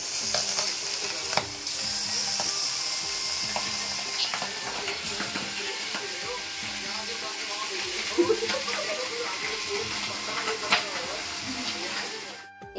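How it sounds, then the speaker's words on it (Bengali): Fish frying in hot oil, a loud continuous sizzle and hiss with scattered sharp pops and crackles throughout, fading near the end. "এই মাছগুলো ভাজার সময় কিন্তু খুব সাবধানে ভাজতে হবে।"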